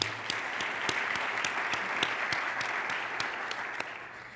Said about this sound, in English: So just again, a round of applause for all of it you've done.